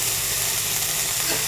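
Brinjal and dried prawn curry frying in a pan, a dense, loud, continuous sizzle and hiss close up with no talking.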